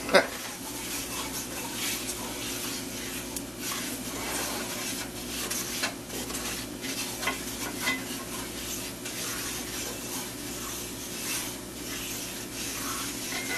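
A spoon scrapes and stirs a thickening roux sauce in a pan for roast chicken with red wine and sour cream, a steady soft rubbing with faint sizzle throughout.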